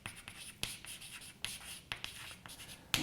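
Chalk or marker taps and scratches across a board during a physics lecture, a series of crisp strokes and clicks at uneven intervals, close and moderately loud with no speech over them.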